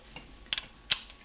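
A wrench loosens a bolt on a 2002 Honda Odyssey automatic transmission during teardown, giving a few short metallic clicks and ratchet ticks, near and fairly quiet, with one sharper snap toward the end.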